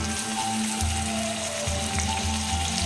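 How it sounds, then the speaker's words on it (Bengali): Hilsa fish bones and pond prawns frying in hot oil with a spice tempering, giving a loud, steady sizzle and crackle with faint rhythmic clicks and no voices. "রাঁধুনি ফোড়ন দিয়ে এবার দেবো একটু এই যে একটু ইলিশ মাছের কাটা আর একটু পুকুরে চিংড়ি"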